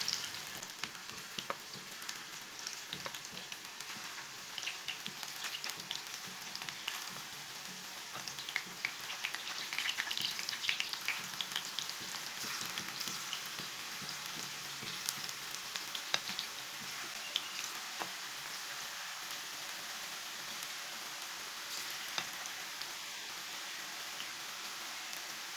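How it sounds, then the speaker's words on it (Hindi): Banana slices deep-fry in hot oil, giving a continuous, fairly quiet sizzle with scattered crackles and pops that persists throughout. "इसे 2 मिनट तक फ्राई होने देंगे"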